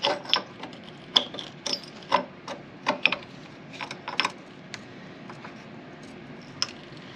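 Ratchet work on the bolts of a KTM 890 kickstand foot produces a series of close, sharp clicks and metallic ticks in irregular bursts, fading toward the end.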